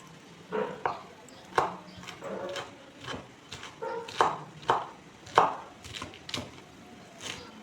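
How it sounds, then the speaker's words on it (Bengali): Dhenki fern greens chopped with a knife on a board, a dozen or so crisp thuds in an uneven rhythm, close and fairly quiet. "শাকগুলোকে এখন কেটে নেব।"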